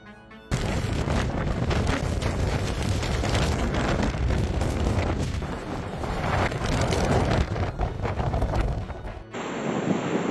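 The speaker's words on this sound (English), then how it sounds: "Severe snow smothered Pikes Peak with strong winds and near zero visibility." Strong winds roar through a severe snowstorm on Pikes Peak with near zero visibility, a loud, continuous buffeting rush that hits the microphone hard and holds steady for nearly the whole stretch before cutting off abruptly.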